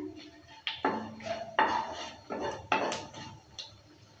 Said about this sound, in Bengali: দেওয়ার পর নেড়ে চেড়ে নিচ্ছি। নেড়ে চেড়ে নিয়ে ভালো করে ভেজে নিচ্ছে।